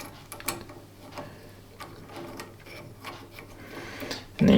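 A metal nut is tightened onto the wooden handle of a Rocket Giotto espresso machine, pressing a square bar into place; soft close mechanical clicks and scraping recur, ending in a louder clatter.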